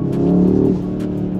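The engine of a 2022 Audi RS3 accelerates with a loud, close, steady drone that eases off partway through.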